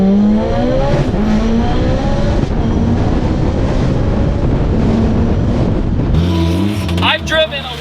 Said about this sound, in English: There is something about the all-wheel drive pull of a Mitsubishi Evo with high horsepower.